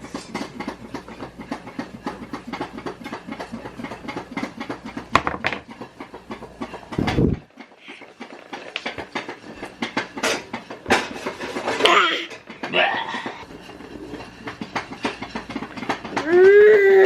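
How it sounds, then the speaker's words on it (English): Popcorn popping inside a covered pot on a home stove, with dense irregular crackling and pops over a continuous sizzling rattle and several louder metallic knocks from the pot. "Make you hear the popping."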